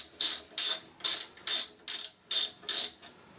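A wrench turns a 14 mm nut on a fixie bicycle, producing seven evenly spaced, sharp metallic ratcheting bursts close by, with no voices.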